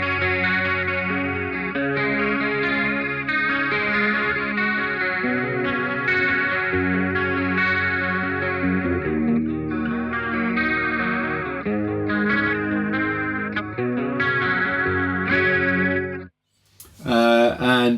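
Electric guitar chords played through the CE-1 chorus mode of a BOSS MD-500 modulation pedal, sustained and shimmering with a thick, wavering chorus, ringing continuously before cutting off near the end into a brief burst of another sound.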